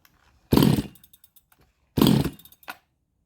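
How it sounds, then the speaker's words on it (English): Chinese 62cc chainsaw cutting wood in two loud, close bursts of rasping engine roar, each about half a second, separated by a pause filled with faint ticking and a brief final blip. "Take the wood out now and do some cuts and see what she goes like with."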